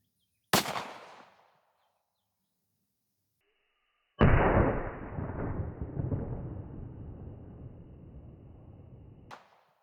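A 9mm Canik pistol with a 5.2-inch barrel fires outdoors: one sharp, close crack that fades quickly, then a second, heavier report trailing off in a long rumbling decay, with a faint click at the end.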